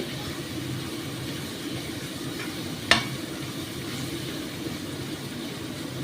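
Mutton pieces for a restaurant-style mutton tarka fry with spices over high heat, giving a quiet, steady sizzle while being stirred, with one sharp clink of the spoon partway through.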